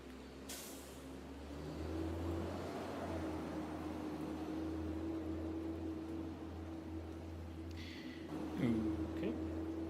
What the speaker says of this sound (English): I can hear the bus coming up the drive